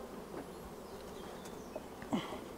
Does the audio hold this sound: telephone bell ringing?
no